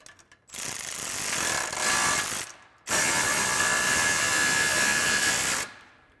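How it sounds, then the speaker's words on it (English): A ratchet tightens an exhaust muffler clamp on a 2009-2018 RAM 1500 with a 5.7L engine, giving two bursts of rapid, close clicking separated by a short pause. "I'm just gonna snug up that clamp to keep things from moving around while still being adjustable."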